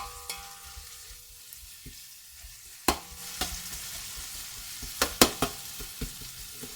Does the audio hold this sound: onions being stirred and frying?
yes